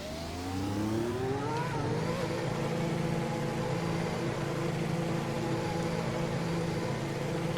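A 2017 works Ferrari race car in Assetto Corsa pulls away on an out lap, its engine note rising steeply through the first gear change, then settling into a steady, loud drone.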